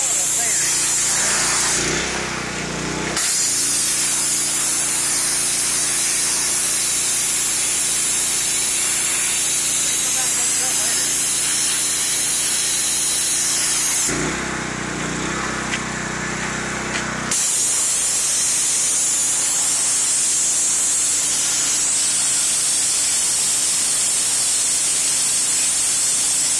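A Northern Tool sand pressure washer wet-sandblasting rust and paint off a trailer, giving a loud, continuous hissing spray that cuts out briefly twice before starting again, with an engine hum underneath.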